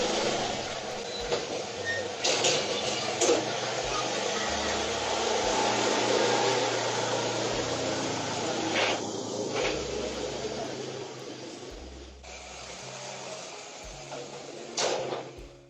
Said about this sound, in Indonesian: Oh ini yang dia banting pagar nih.